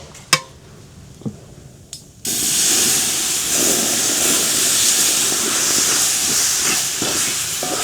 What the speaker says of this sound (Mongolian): За одоо би жоохон цай хийнэ.